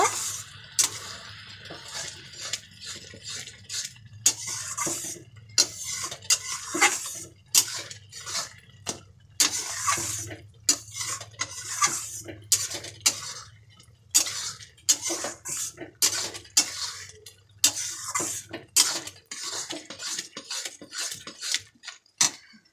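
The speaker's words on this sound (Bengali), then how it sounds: "ধনে পাতা কুচিটা দিয়ে ভালো করে নাড়িয়ে নেব।" Chopped coriander being stirred into egg tarka in a pan, a long run of close, rhythmic spoon scrapes and clinks against the metal with short gaps between strokes and no talking.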